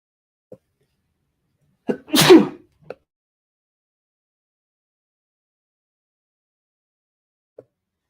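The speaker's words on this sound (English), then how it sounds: "That sneeze was stuck there for a second." A single loud, close sneeze with a sharp breathy burst, preceded by a short intake and surrounded by near silence with a few faint clicks.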